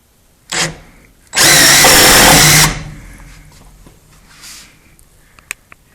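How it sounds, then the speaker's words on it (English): An impact driver sinks a drywall screw in one loud, harsh burst lasting just over a second, preceded by a brief short whir and followed by quieter handling clicks and taps. "The drywall screw. So I'm gonna shoot it in here,"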